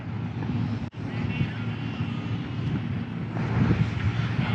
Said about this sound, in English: All of a sudden the wind picked up.